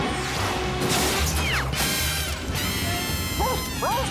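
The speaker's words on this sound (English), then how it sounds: "There's broken glass everywhere." Glass smashing in an Inspector Gadget cartoon, a brief crash set among whooshing, swooping effects and busy background music.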